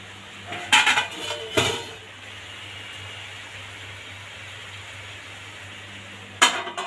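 A lid goes onto a cooking pot of shrimp and taro stolons, giving two sharp metallic clatters close by and a later clank, with a faint steady hum between them.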